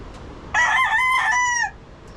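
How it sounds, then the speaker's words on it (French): A single rooster crows loudly and nearby in the early morning in Costa Rica, one drawn-out cock-a-doodle-doo rising and holding before breaking off into quiet. "les coqs le matin, vraiment tôt à 5h, qui se mettaient à chialer"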